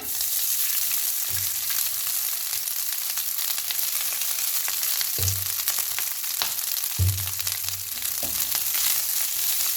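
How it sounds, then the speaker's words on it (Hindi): Rice stir-fried in a frying pan for Chinese fried rice gives a steady, loud sizzle throughout, broken by a few low scraping stirs of the spatula against the pan. "ये मैंने इसे अच्छी तरह से फ्राइंग पैन में सब चावलों को फ्राई करके"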